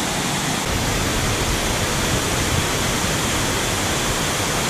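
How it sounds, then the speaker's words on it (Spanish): A steady, loud roar of falling water from a 64-metre waterfall in Misiones, Argentina, heard from the top, fills the whole clip, a dense broadband rush with no breaks and no voices. "Estamos sobre la cascada arriba."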